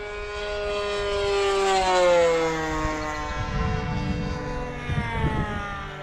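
RC model airplane with a glow engine at full throttle, a high buzzing propeller drone that rises in pitch and loudness as it passes, then fades with some wind rumble.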